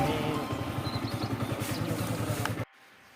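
A motorcycle idles nearby with a steady pulsing engine throb while being parked outside a room in the Dang valley, then the engine cuts off abruptly, leaving quiet.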